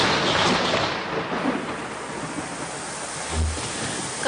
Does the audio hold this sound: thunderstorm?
yes